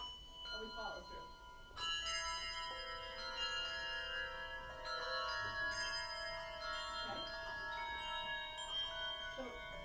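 Handbells rung four-in-hand, two bells held in each hand, chiming in a slow sequence of clear sustained tones that ring on and overlap, with quiet talk in the room between strikes.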